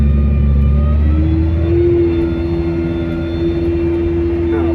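A farm tractor drives across fields towing a big, wide anhydrous ammonia applicator bar, its engine giving a steady, loud, continuous drone with a sustained low hum throughout.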